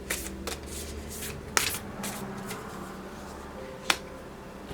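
Light Activation Oracle cards are shuffled close by in quick riffling bursts, with two sharp snaps of cards striking each other, over a soft low room hum.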